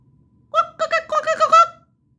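A human voice imitating a rooster crowing, one close, loud call of several quick rising and falling pulses over about a second, alone.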